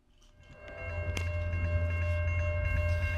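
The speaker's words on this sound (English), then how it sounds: "Getting stopped because of an oncoming train can be time-consuming" A train passes a railroad crossing: a low rumble builds and holds, with sustained horn-like tones on top and no voices.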